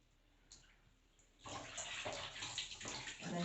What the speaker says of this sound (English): And then you just squeeze all of the water out.